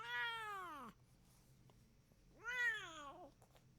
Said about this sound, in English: kittens just cry. They do cry more than an adult cat does